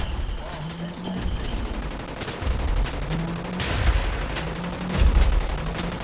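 Gunfire from a boss enemy in the video game Wolfenstein: The New Order, sustained bursts with heavy booming impacts throughout, fairly loud and continuous, with brief talk underneath.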